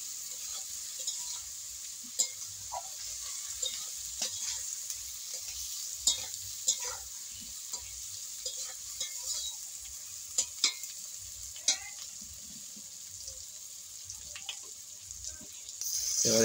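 Cumin and chili paste stir-fried together in a pan for a fish curry: a steady low sizzle runs under repeated scraping and stirring clatters, with sharper clinks every second or so, fairly close and moderately loud.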